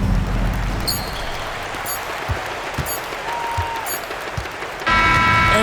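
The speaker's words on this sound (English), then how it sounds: "Made extra special, Mike, by all the noise from this home crowd." A home crowd in an NBA 2K25 basketball game roars with applause and cheering, with basketball bounces thudding underneath and the noise swelling louder toward the end.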